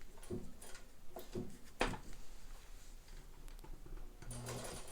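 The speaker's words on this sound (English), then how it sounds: "you can sew a lot faster than what I'm doing here" A mint-condition Necchi Supernova Ultra sewing machine runs a zigzag stitch, its soft mechanical clatter faint and uneven as the speed shifts, with a few louder clicks and knocks.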